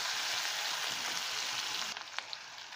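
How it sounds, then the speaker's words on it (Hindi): Chopped curry leaves and green chillies frying in oil, a soft continuous sizzle that drops away near the end, leaving a few faint clicks and stirring sounds, no speech. "करी पत्ता को मैंने काट के लिया है वो डालेंगे और हम इसमें हरी मिर्च डाल देंगे और 2 मिनट इसे ऑयल में भूनेंगे।"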